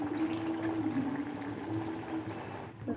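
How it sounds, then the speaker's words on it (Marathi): Sabudana vadas deep-fry in hot oil with a soft, continuous bubbling hiss that holds steady and moderately quiet throughout, with a faint clunk near the end. "बघा, इथे छानपैकी मी वडे तळून घेत आहे."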